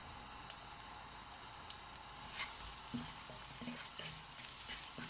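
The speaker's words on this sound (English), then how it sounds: "I'm going to sweat the garlic and get that really nice aroma from it" Chopped garlic sweating in a frying pan, giving a soft, steady sizzle with faint ticks and occasional light stirring clinks, quiet and close, with no talk.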